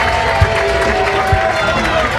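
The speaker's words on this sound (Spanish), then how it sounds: "un fuerte aplauso para la Peña Sevillista." A crowd at an awards ceremony during the Rota spring fair claps and cheers for a Sevilla supporters' club, a dense, steady wash of applause with a few louder thumps.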